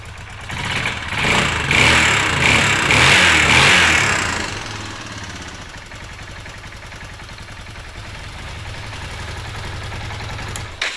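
A small engine, likely a motorcycle with a carburetor, revs loudly for a few seconds and then drops back to a steady, close idle while it charges.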